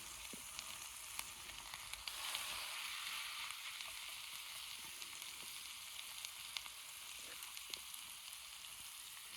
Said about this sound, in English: So let's throw these lamb chops in. Let's get a good sear on them.